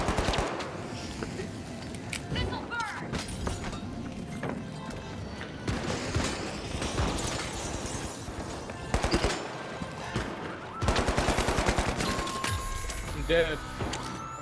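Rapid gunfire and shotgun blasts in the combat game The Finals: dense bursts of automatic fire and sharp repeated shots, loud and close. Players talk excitedly over the shooting.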